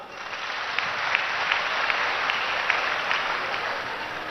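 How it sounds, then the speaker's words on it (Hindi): A large audience at a crowded talk on Arya Samaj gurukuls claps together in sustained, dense applause that stays loud and even throughout, with no voices standing out above it. "जरा ताली बजाओ।"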